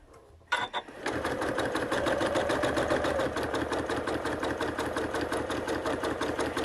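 A sewing machine stitches a seam in steady, rapid mechanical pulses after a brief start, running continuously and close by with no talking.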